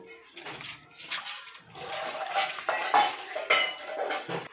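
Fish curry ingredients for rohu posto get stirred in a pan, producing close metallic scraping and clinking of a utensil against the pan in irregular strokes, with some sloshing of liquid.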